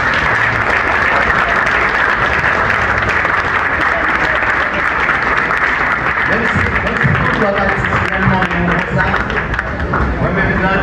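An audience applauds steadily at a church service, dense sustained clapping filling the room from start to finish with a faint murmur of voices underneath.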